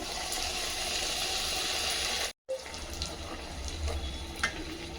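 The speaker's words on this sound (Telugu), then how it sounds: "ఇప్పుడు పూరీలు వేయించుకుంటున్నాం" Puris deep-fry in hot oil with a continuous, close, bubbling sizzle and hiss, briefly cut off once before resuming with faint crackles.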